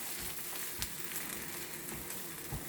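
Spinach cooking in a frying pan, a soft continuous sizzle and faint crackle at low level, with no voices.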